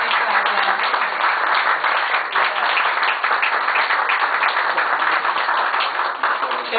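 An audience at a cultural association gathering applauds warmly, with steady, dense clapping from many hands that continues evenly throughout.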